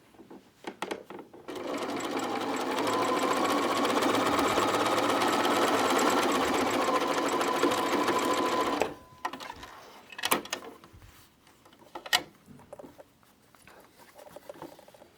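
A sewing machine runs steadily for about seven seconds, stitching a quilt log seam on an Off Kilter partial-seam block, then stops, leaving a few scattered handling clicks and taps.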